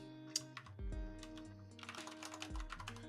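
Typing on an unusual computer keyboard: bursts of quick, close keystroke clicks, sparse at first and then denser, heard over a low sustained musical drone.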